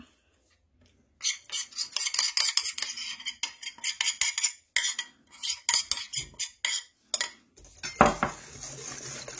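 A utensil scrapes and clinks against a bowl as chocolate is stirred into whipped, foamy brownie batter, quick rhythmic strokes in close bursts with short pauses, ending in a louder clatter.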